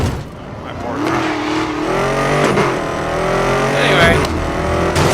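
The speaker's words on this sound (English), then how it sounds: "I hope the engine noises aren't too loud so you can actually hear me." Racing-game car engines from Need for Speed Most Wanted rev and roar steadily throughout, with rising pitch sweeps and a brief tire squeal, while someone talks over them.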